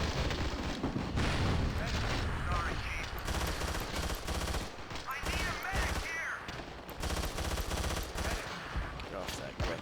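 Battlefield 2 gameplay gunfire: dense, loud automatic bursts and explosive booms, with near and distant shots overlapping almost continuously and voices mixed underneath.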